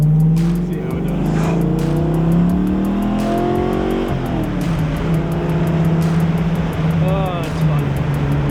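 A Ford Mustang Fox Body with a rough idle problem drives along, its engine droning steadily and rising and falling as it revs, loud and close throughout, with someone talking over it.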